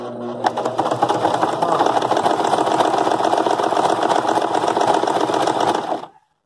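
A sewing machine stitches steadily and loudly up close, a continuous buzzing run that stops abruptly near the end.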